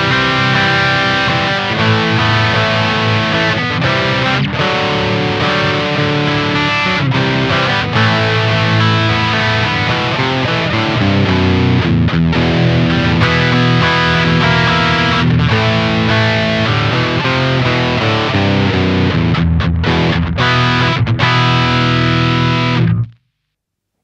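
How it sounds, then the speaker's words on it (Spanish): Electric guitar played through a BB Preamp Andy Timmons version in the signal chain, a loud, continuous overdriven tone with sustained chords and melodic lines, heard alone without any talking. "ya que tenemos conectado en la cadena de audio un BB Preamp versión Andy Timoms, escuchá cómo suena con mi seteo favorito"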